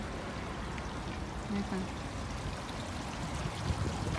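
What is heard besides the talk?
small garden waterfall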